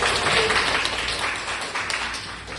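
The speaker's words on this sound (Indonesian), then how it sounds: "Tepuk tangan untuk kelompok." A classroom of high school students gives a group a round of applause, a short burst of dense clapping that is loudest at the start and gradually thins out.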